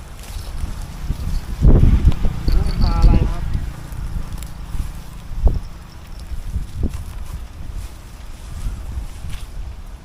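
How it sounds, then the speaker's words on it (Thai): Strong wind gusts at a natural canal, Khlong Chorakhe in Samut Prakan, during bottom fishing, producing low rumbling buffeting across the microphone, with someone speaking briefly near the start. "ลมมันแรงมากนะครับ วันนี้"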